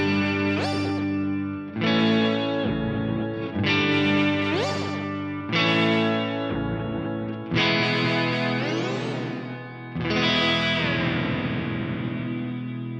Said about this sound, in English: my delay repeats are going to be quicker, but anything that I play in there is going to get pitch shifted up an octave